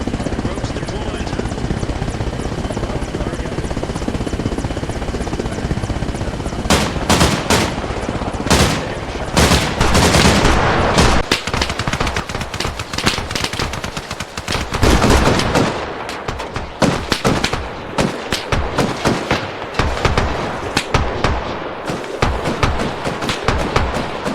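Street fighting in Grozny in the Arma Reforger game, with helicopter rotor drone at first, then loud bursts of machine-gun fire and scattered gunshots cracking close and far, with voices talking through parts of it.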